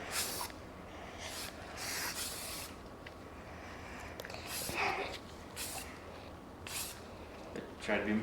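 Bursts of spray paint hiss in short repeated blasts, each a few seconds long, as light coats go onto a Jeep JK Dana 30 front axle, with a person speaking quietly between them.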